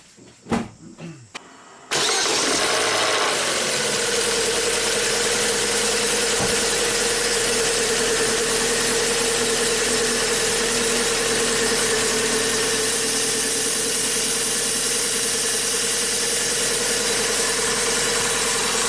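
A Vauxhall Astra engine with suspected VVT solenoid, O2 sensor and timing-belt tension trouble cranks briefly after a few knocks, catches and settles into a steady, loud, close idle that runs on unbroken.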